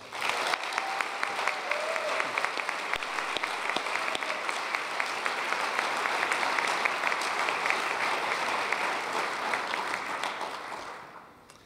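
At an Arlington ISD foundation awards dinner, the room applauds the nominees and winners in a sustained, dense wash of clapping that stays strong for about ten seconds, then tapers off.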